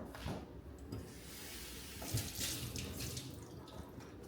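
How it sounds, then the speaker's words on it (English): Faint tap water runs into a sink as food gets a quick rinse, a soft, continuous splashing with a few louder surges midway. "Let's just do a quick rinse."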